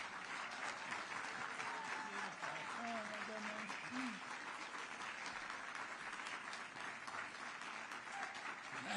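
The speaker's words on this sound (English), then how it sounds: "Please stand up and give him the applause and the thank you he deserves." Sustained audience applause for Health Secretary Bobby Kennedy fills the hall, dense and steady throughout, with faint voices and cheers mixed into the clapping.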